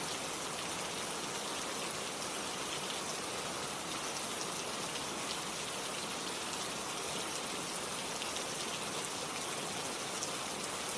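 Steady rain falls in a dense, unbroken patter with no pauses and no voices.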